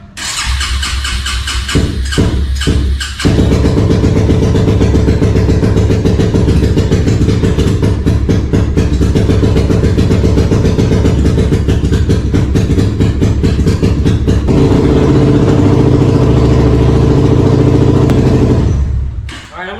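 An engine is cranked a few times in quick bursts, then catches and settles into a loud, steady idle that runs close-up until it is shut off near the end.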